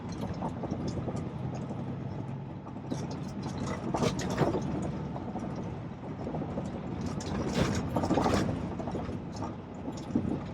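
A semi truck engine runs and changes pitch as the driver shifts through the gears while accelerating, heard from inside the cab as a continuous loud rumble with surges and dips.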